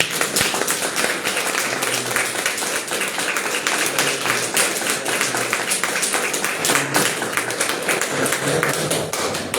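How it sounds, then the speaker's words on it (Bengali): A congregation at a church worship service claps loudly in dense, sustained applause, with many hands beating together steadily and no pauses. "আমরা জোরে একটা হাততালি দিতে হবে"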